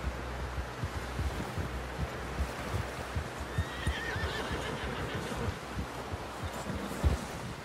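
A horse whinnies amid steady hoof clops and a low rumble of wind or surf in the video game Red Dead Redemption 2, the hooves beating in a continuous rhythm close by.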